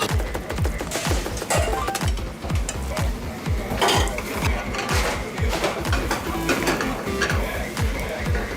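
Japanese master chefs work several pots at once during a timed cooking contest, making a busy, steady clatter of metal pots, utensils and stirring with faint background voices.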